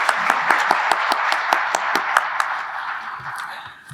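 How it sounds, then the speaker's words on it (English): Applause for sponsors at a rail transportation legislative meeting: a scattering of distinct, sharp hand claps from a modest audience, fairly close, thinning and fading out over a few seconds. "let's give them a round of applause and thank them"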